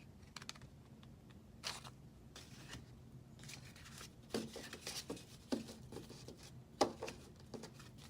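Scissors snip through a stack of shaped paper flower petals, making a center cut; several sharp, close clicks and crisp snips scattered over a quiet room background.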